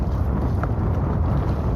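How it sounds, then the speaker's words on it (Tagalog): Strong sea wind buffeting the microphone in a steady, loud roar with low rumbling gusts, heard from a small fishing boat on open water. "lumalakas na naman yung hangin"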